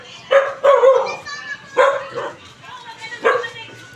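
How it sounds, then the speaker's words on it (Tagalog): A dog barks and yips in short bursts, four or five close, fairly loud calls spread over a few seconds, outdoors beside a muddy path. "Ang aso."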